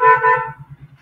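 A car horn honks from a busy street outside, a sustained blare for about half a second followed by fainter pulsing low tones as it fades.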